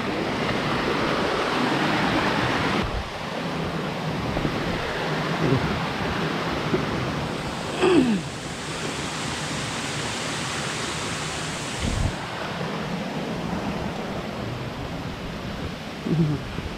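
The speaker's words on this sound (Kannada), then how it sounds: "ನೀರು ಬರ್ತಾನೆ ಇರ್ತದೆ." Water rushing along a forest stream on a trek, a steady broadband roar that fills the whole stretch, close and constant, with a few faint knocks and brief tonal sounds.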